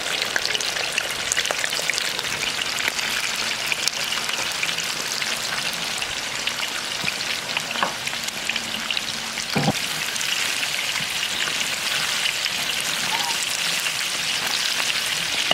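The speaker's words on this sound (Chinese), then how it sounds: "油温6成热，下入排骨炸。" Pork ribs coated in egg and starch deep-frying in hot oil, a dense, steady crackling sizzle with scattered pops that holds at an even level throughout, with no voices.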